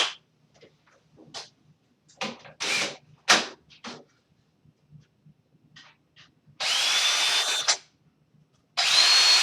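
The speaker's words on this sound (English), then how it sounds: "Gotta do a little drilling." A handheld power drill runs in several short bursts of a few seconds each, loud and close, separated by quiet gaps with faint handling clatter.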